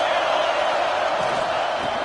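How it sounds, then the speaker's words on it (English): A football stadium crowd roars in a steady, dense wash of cheering and shouting against the opposing offense, loud and continuous with no clear breaks. "This crowd trying to make life miserable for this offense."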